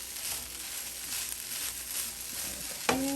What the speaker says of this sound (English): I'm going to stir this up some more